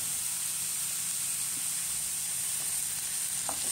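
Sayote and carrots sautéing in a pan, a steady close hiss of sizzling under light occasional stirring, with no voices.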